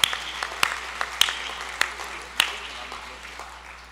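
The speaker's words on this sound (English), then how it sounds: "he deserves a round of applause" A few isolated handclaps ring out at a gala audience event at Bet El Gala 2018, spaced roughly every half second and fading away in a quiet room.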